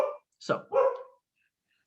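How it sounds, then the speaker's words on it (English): A pet dog gives two quick, fairly close barks indoors, following a brief spoken word and leaving silence afterward. "sorry, that's my dog."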